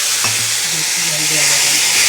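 Water poured onto frying semolina in a pan, raising a loud, dense, continuous sizzle and hiss close by, with a faint voice murmuring underneath.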